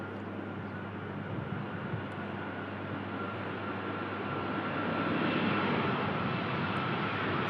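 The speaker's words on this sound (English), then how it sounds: "Lovely Heavy arrival here at Manchester. Just touching down." A heavy airliner touching down at Manchester Airport makes a broad, steady rumbling roar that swells slightly toward the end, distant-sounding and continuous with no talk.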